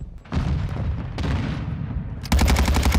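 Video-game gunfire from an ARX rifle on a night map in a shooter: close, loud shots through the first seconds, ending in a rapid, evenly spaced automatic burst, with no voices.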